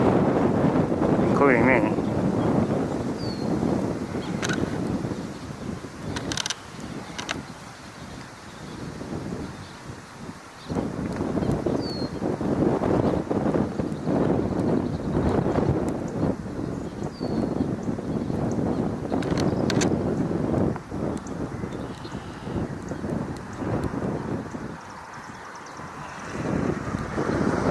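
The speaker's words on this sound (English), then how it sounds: "Wind is shaking everything now," Strong wind buffeting a Ferris wheel, rumbling and gusting against the microphone with roaring surges and scattered knocks and rattles, continuous throughout, with a few brief spoken words over it.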